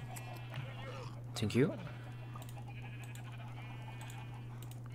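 A Minecraft sheep bleats once, brief and moderately loud against a steady low hum, with a few soft clicks and a voice speaking briefly in the game session.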